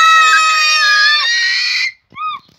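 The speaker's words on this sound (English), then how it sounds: "That was a loud scream, Tobes." A child screams, long, loud and shrill, after putting a foot into cold water, then gives a short rising yelp after a brief pause.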